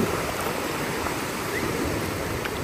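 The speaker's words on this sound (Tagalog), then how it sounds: "Masyado maalon." Sea waves wash steadily onto Tondol Beach in Anda, Pangasinan, as a constant broad rushing surf close by, with no voices.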